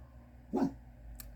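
A single short bark from a dog indoors in a family home, moderately loud and close, followed by quiet room tone and a faint click.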